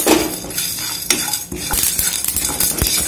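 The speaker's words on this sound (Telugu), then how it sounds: "ఇప్పుడు నువ్వులు వేసుకొని వేయించుకుందాం" Sesame seeds, lentils and coriander seeds dry roast in a pan while being stirred, producing close, rattling scrapes and clinks of a spoon against metal in quick, irregular strokes.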